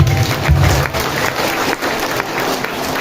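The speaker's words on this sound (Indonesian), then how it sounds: "Tepuk tangan dulu ya." A church congregation claps for a priest during a jubilee sermon: a dense, fairly loud burst of applause from many hands that holds steady for a few seconds, with a faint voice briefly underneath.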